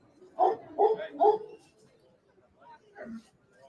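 Police sniffer dogs give three quick barks close together, followed after a short pause by a softer yelp or whine, each heard alone against a quiet background.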